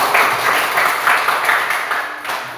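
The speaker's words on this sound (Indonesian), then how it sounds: "Berikan tepuk tangan yang meriah." Lively applause at a classroom group presentation session, a loud, dense wash of clapping from a room of students that stays steady for a couple of seconds.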